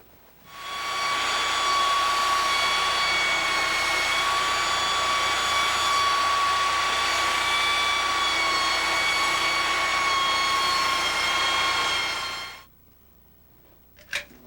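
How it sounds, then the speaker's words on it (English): A belt sander grinds a countertop backsplash down to a scribed line for a bathroom install, a loud steady whine with strong tonal hum holding for about twelve seconds before cutting off abruptly into quiet. "using a belt sander, we can take this right down to the line"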